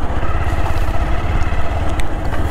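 The engine of a Bajaj Pulsar 180 motorcycle on a test ride near farm fields drones in a loud, steady low rumble, close by and sustained throughout.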